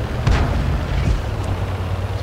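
Cannon fire from tanks, including a Crusader, in a video game: two muffled, deep booms sound a little apart over a continuous low rumble.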